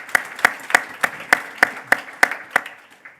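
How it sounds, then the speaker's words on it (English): About ten sharp claps ring out in an even, steady rhythm at a conference stage, fading slightly toward the end. "A big round of applause"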